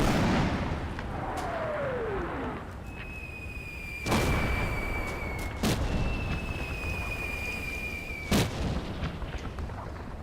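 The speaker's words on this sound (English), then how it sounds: "you can sort of see there as well the mortar fire coming in" In the Combat Mission: Battle for Normandy war game, 120mm mortar rounds land in several sharp, loud booms spaced a few seconds apart, over a constant battlefield rumble and passing whistles.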